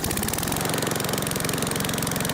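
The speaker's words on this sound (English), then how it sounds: "here's the no muffler mower" A Briggs & Stratton 190cc 675 series lawn mower engine runs with its muffler removed, giving a loud, harsh, rapid stream of firing pulses heard close up and steady throughout, with no talking.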